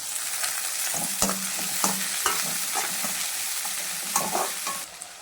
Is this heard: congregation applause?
no